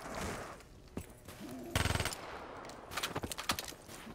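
Vesper gun with double tap firing in a video game: a quick burst of rapid shots near the middle, then more clustered rapid bursts later, loud over busy game noise.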